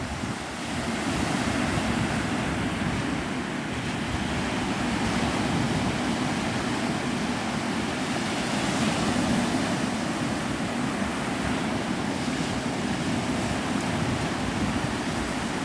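Steady surf rolling onto the sand at Navarre Beach, Florida, a continuous loud wash of waves mixed with wind buffeting the microphone, constant throughout with no voices.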